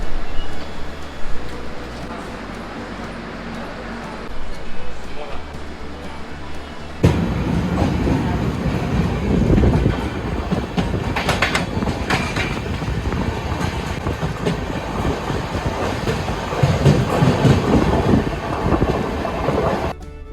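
Vivek Express passenger train running on rails, a steady rumbling roar that grows louder and fuller partway through, with intermittent rattling and clatter continuing to the end.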